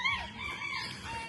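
A rooster crows once, a short strained call that is faint and fairly distant, with no talking.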